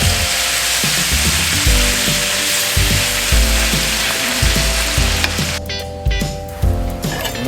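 Marinated beef for beef steak sautés in a hot pan with a loud, steady sizzle, broken by dull thumps and scrapes as the pieces go in and get tossed.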